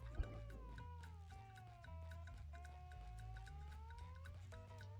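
Gary the snail from the SpongeBob game Battle for Bikini Bottom meows in a drawn-out, wavering cat-like call, clear and close over a low steady game background hum.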